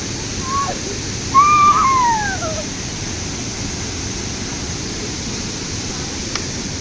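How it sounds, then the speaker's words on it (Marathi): Waterfall near Devrukh, water spilling over a rock ledge, heard as a steady broadband rush with a brief whistle-like tone early on, continuous and even throughout. "ब्रिजच्या समोर एका अशा कठ्ठ्यावरून पाणी पडतं, ते असे धबधब्यासारखं दिसतं"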